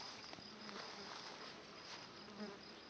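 A swarm of honeybees buzzes around a bee trap set on a lone pine in open country, a steady, dense insect drone that stays fairly faint and continuous throughout, with no voices.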